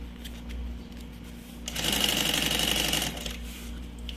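A sewing machine runs a continuous stitching burst through a bag lining, a steady rapid mechanical whir lasting about a second and a half amid quieter handling noise.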